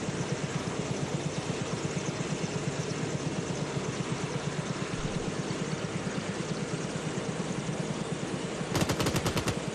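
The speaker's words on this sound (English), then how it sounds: "Oh, there's some gunfire" Rapid gunfire in the video game Arma 3 rattles continuously over a droning engine, steady and fairly quiet, with a sharper burst near the end.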